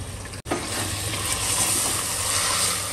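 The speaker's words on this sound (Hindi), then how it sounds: "कीमा डाल के अच्छी तरह से भून लेंगे" Minced meat fries in a pan for a keema and potato curry, giving a dense continuous sizzle. A brief dropout comes near the start, with no voices.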